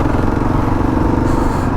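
A Kawasaki KLR 650 motorcycle rides off road through sand and water crossings, its single engine droning steadily and close with a rough, even rumble and some clatter, no talking.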